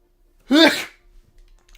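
One short, sharp sneeze bursts out suddenly, close and fairly loud, followed by faint breathy sounds in an otherwise quiet room.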